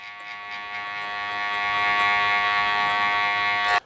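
An electric hair clipper buzzes steadily and close up while blending a temple taper fade. The tone is constant for about four seconds, then cuts off abruptly, with no talking.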